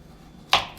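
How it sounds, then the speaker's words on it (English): A single crisp knife chop through a raw carrot while cutting it into sticks, one sharp close cut against a board after near silence. "just take one and just cut several sticks off of it"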